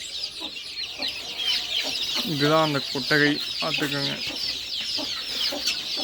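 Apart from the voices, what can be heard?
Siruvidai chickens clucking at a chicken farm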